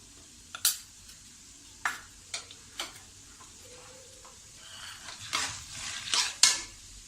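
Roasted chana dal stir-fried in a pan for a poha chivda, with a few scattered scraping clicks and light rustles of the spoon, building to denser, louder scrapes near the end over a quiet background.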